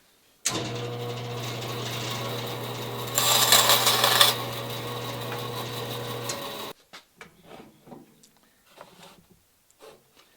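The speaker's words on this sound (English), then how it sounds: "So next we're going over to the bandsaw." A bandsaw cuts through a wooden plug: the motor hums steadily, a louder, rougher burst of cutting comes midway, then the saw cuts off and a few scattered clicks and handling knocks follow.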